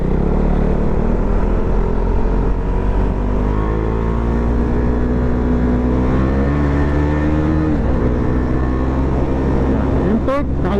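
A Husqvarna Svartpilen 401 motorcycle pulls hard under acceleration on an expressway exit, a loud, close engine note rising and holding with some wind rush, ending in a brief burst of noise.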